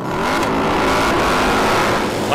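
A Harley-Davidson Road Glide racing motorcycle at a King of the Baggers race at Road Atlanta revs loudly, its engine a dense sustained roar that rises and falls slightly, close by and with no talk.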